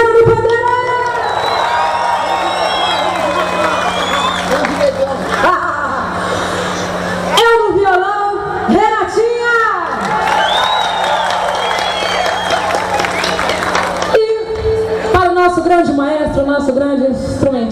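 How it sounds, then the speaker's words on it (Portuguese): A crowd at a live samba show in Campo Grande cheers, whoops and shouts loudly over the band's ongoing music, with high excited cries rising and falling throughout. "Vamos dar um gritinho para ela, vamos, vamos"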